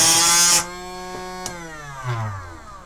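A power tool sanding a balsa wood popper with 240-grit sandpaper buzzes loudly for a moment, then winds down into a fading, humming whine.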